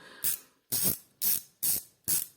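Ratchet of a Sigma reversible screwdriver being worked in five evenly spaced bursts, each a short, close, crisp rasp of clicks separated by brief pauses, heard alone.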